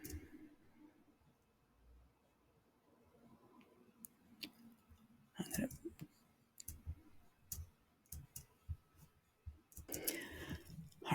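Scattered computer mouse clicks, faint and sparse, heard against quiet room noise with a few louder clicks and rustles near the middle and end.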